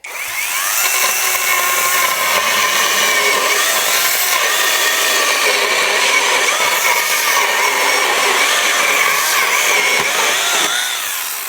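SHIDOKU SH PG2 12-inch cordless telescopic chainsaw cutting through a wooden beam, a loud continuous high whine and chain rasp that runs for about ten seconds before winding down, with no talking.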